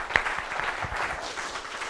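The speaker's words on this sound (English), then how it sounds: "I think we need a round of applause for our first speaker." An audience at a tech demo talk claps for the first speaker in a short burst of applause that stays fairly even, with no voices over it.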